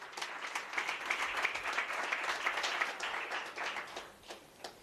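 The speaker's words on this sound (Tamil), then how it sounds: "அப்போ நான் நல்ல கைத்தட்டணுமா இல்லையா?" A church congregation at a special service for the blind claps together, a lively rippling round of applause with distinct individual claps rising and falling over a few seconds before tapering off.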